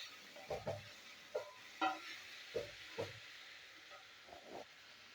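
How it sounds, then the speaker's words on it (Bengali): Spice mix being stirred and fried in a pan with taro and potatoes, a soft background sizzle broken by several separate scraping stirs of a spoon, quiet and close. "মশলাটা আমি ভেজে নিচ্ছি"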